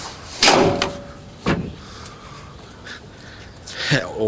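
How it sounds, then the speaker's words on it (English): Door of a 2012 Ford F-150 Raptor pickup unlatching and swinging open, a couple of close mechanical clunks and a latch click against light background noise, with no speech over it. "And let's get the door open."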